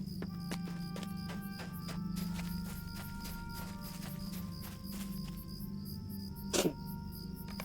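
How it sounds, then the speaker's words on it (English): Crickets chirp at night in the game Lord of the Rings Online, a dense, steady insect trill under rhythmic footsteps, with a brief louder knock near the end and no talk. "Crickets in the nighttime."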